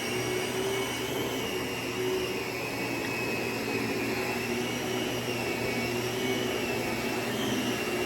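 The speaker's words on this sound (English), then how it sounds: "Let's do a little bit more vacuuming." A Lindhaus Diamanté 380 two-motor upright vacuum cleaner runs steadily at a constant, close, loud whirring drone while vacuuming, with no talking.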